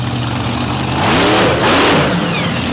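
A monster truck engine revs hard during a stunt showdown competition at Battle @ Butler, rising in pitch and swelling louder mid-clip before holding a strong roar, with no talk over it.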